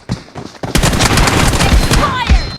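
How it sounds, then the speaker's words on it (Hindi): Rapid automatic gunfire in the shooter game BGMI (PUBG) rattles out in a loud, dense burst after a few scattered shots, sounding close with a brief ricochet-like whine near the end. "यहाँ पे मैं अपने टीममेट को कवर फायर देता हूँ"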